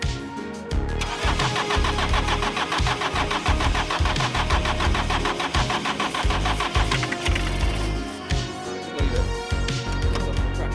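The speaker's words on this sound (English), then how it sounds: "we're just going to have a go with the easy start. See if it starts." A Land Rover Series 2A diesel engine, just swapped in, cranks with a rhythmic chugging churn that catches into a loud, rough clattering run, close and sustained throughout.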